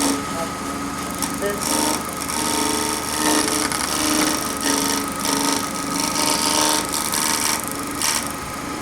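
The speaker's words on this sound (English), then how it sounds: "I'll drop the handle, almost close the gouge, and just lightly bring this across." A wood turning gouge on a lathe takes a light finishing cut across a triangular box, producing a steady, fairly loud scraping hiss with slight rhythmic pulses over the lathe's hum.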